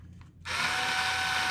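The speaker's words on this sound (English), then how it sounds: "start our power drill" A power drill spins up suddenly after a brief quiet moment and then runs at a steady high whine, close and continuous, used to touch off brass rifle cartridge cases for 308 Winchester reloading.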